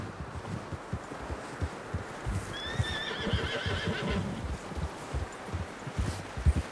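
A horse whinnies loudly in a long, quavering neigh while hooves clop steadily on the ground, with wind and rustling behind, in the video game Red Dead Redemption 2.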